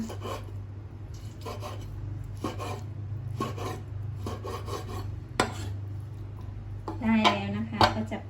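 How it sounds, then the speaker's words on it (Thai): Repeated rasping knife strokes slicing raw pork, a steady rhythm of short scraping cuts over a low background hum, with a few clinks near the end. "เราดูลายของหมูแล้วก็หั่นได้เลยนะคะ"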